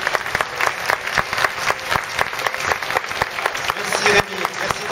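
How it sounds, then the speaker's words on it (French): A crowd applauds at an equestrian show with a horse and rider, loud sustained clapping with sharp individual claps standing out, and voices mixed in. "ça mérite des applaudissements"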